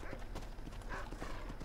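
Horse hooves clip-clop in the Western video game Red Dead Redemption, a quick, steady rhythm of hoof strikes over faint game ambience.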